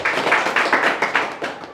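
A church congregation claps together in a steady, quick rhythm, loud and close, the beat holding evenly throughout.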